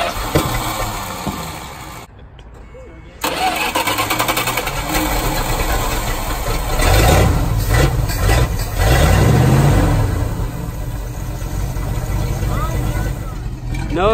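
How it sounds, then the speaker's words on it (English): A 1979 Dodge Power Wagon engine running with no exhaust fitted: it fires up into a loud, raw idle that swells with revs, and people talk over it. "Now it's time for the startup of the motor."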